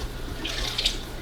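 Water poured from a half-gallon jug into an Eheim 4+ Professional 250 canister filter makes a brief, soft splashing trickle over a low steady hum, with no talk.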